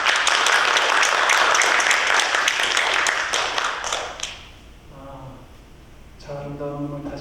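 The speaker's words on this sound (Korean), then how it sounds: "박수로 감사의 인사를 드리겠습니다" A church congregation breaks into warm, sustained applause for several seconds that fades out, followed by quieter room sound with soft tonal notes and a voice.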